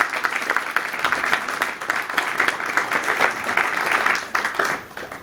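Audience applause at a grandmother's funeral, a room of mourners clapping together in a dense, even burst that swells and continues for several seconds.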